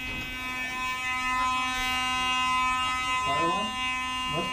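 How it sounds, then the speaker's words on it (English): A fire alarm rings through a deposition room as a steady, loud electronic tone with stacked harmonics, sounding continuously throughout while people talk faintly beneath it. "Must be a fire alarm."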